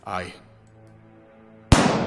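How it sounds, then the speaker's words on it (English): In the video game Stonewall Penitentiary, a short voiced sound fades to a quiet hum, then a single sharp, loud gunshot cracks out and rings off with a decaying tail. "Suddenly, I heard a gunshot."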